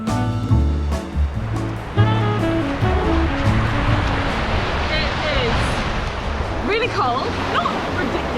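Sea waves wash steadily onto a beach in Çeşme, Turkey, a continuous close surf hiss with voices talking over it throughout.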